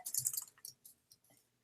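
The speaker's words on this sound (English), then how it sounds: "I'm typing something right now." Typing on a computer keyboard: a quick run of light clicks and taps, close and fairly soft, thinning out into a few scattered keystrokes.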